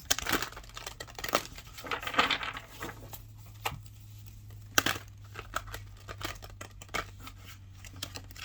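Tarot cards riffle and slap together in short bursts of crisp shuffling, close and fairly quiet, with pauses between.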